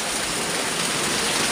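Steady rain falls in a rural Sumedang village during preparations for grilling satay at a celebration, a dense, even hiss of drops spread across the whole clip with no voices.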